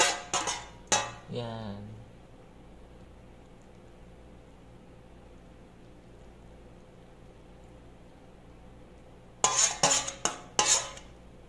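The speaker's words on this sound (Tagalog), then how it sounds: "I-plate na natin yung naluto nating lady fingers." Cutlery and dishes clink as cooked okra is plated, with a few sharp clatters at the start and another burst near the end, separated by a long quiet stretch; one brief spoken word.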